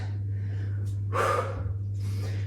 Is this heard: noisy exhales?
yes